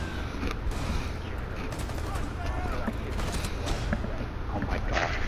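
Rapid gunfire and shotgun blasts in a Rainbow Six Siege match, dense overlapping shots over a constant noisy game backdrop, with voices talking under the din.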